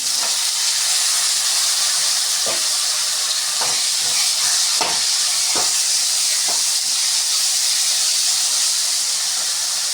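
Tomatoes sauté in a pan for fish kulambu, giving a steady, bright sizzling hiss throughout with occasional soft knocks of stirring, close and loud with no voices.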